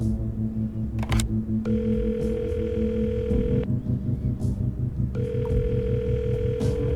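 A telephone line gives a steady dial tone, followed by two long electronic ringback tones with a pause between, sounding clear and close over a low background hum.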